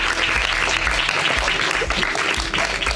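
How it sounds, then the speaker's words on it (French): A festival audience applauds steadily at moderate loudness, dense clapping continuing throughout with low rumbles of room noise beneath. "pour qu'on les applaudisse"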